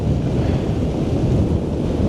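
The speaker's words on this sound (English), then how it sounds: "Sea's getting churned up, driftwood's being blown in." At Blackpool on a stormy high tide, churning sea surf roars continuously under heavy wind buffeting the microphone, a loud, dense rumble with no voices.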